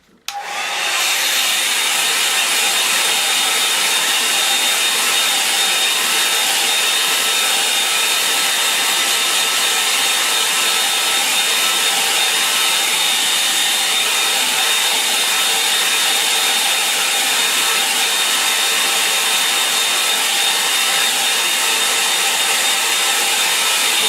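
An electric hair dryer blows continuously at close range, drying a watercolour painting of a Lake District landscape; a loud, steady whirring roar starts abruptly and holds without a break for the whole stretch, with no voices.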